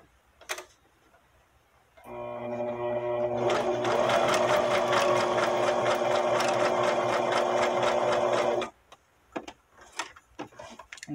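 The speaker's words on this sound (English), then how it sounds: "And then I'm going to go off into a zigzag stitch." A sewing machine running a zigzag stitch while decorating a journal cover: a continuous fast mechanical whir with rapid ticking for about six seconds, close and fairly loud, bracketed by a few quiet clicks and handling sounds.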